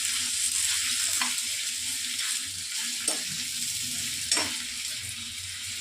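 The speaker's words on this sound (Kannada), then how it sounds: "ಇದನ್ನೆಲ್ಲ ನೀಟಾಗಿ ಹಸಿ ವಾಸನೆ ಹೋಗೋವರೆಗೂ ನೀಟಾಗಿ ಫ್ರೈ ಮಾಡ್ಕೊಬೇಕಾಗುತ್ತೆ" Capsicum and other ingredients fry in oil in a pan for capsicum pulao, producing a continuous bright sizzle up close, with a few spatula scrapes and taps as the mixture is stirred.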